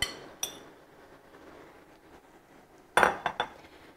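Utensil stirring vegetables in butter and bacon fat in a pan: a couple of soft scrapes early on, then a cluster of sharp metallic clinks and knocks near the end, close and fairly quiet with no talking.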